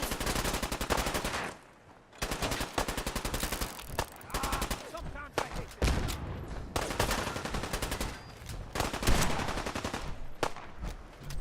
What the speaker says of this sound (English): Oh no, it's fucking Uzis.